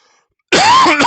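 A single harsh cough bursts out close and loud after a moment of near silence, with a rough, throaty tail that dips briefly and flares again at the end.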